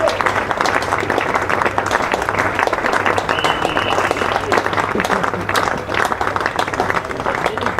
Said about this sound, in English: just listen to the ovation that he's getting